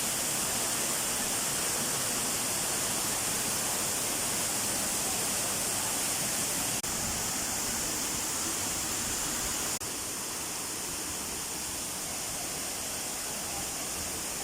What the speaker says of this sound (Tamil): Kiliyur water falls Yercaud